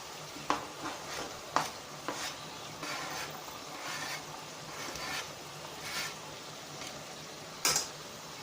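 Minced meat frying in a pan to cook off its water, a continuous close sizzle with occasional scraping stirs and clacks of a utensil, no voices.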